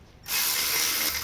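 A ratchet wrench spins a caliper bracket nut off the rear brakes of a Ford Transit 350HD, a sudden loud, fast continuous clicking burst after a brief quiet moment.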